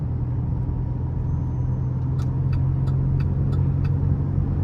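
A 2012 Buick Enclave V6 engine in need of a tune-up idles with a steady low rumble, a few faint clicking ticks appearing partway through.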